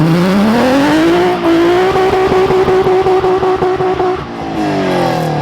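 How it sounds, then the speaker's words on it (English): A Nissan 350Z fitted with long tube headers does a burnout, its engine revving up hard and holding a loud, raspy high pitch with rhythmic pulsing and tire noise, then easing off near the end. "A little burnout, no?"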